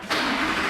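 An Audi R8 V8 fitted with different exhaust tips fires up with a sudden loud burst, then holds a dense, raspy engine roar for the rest of the short moment.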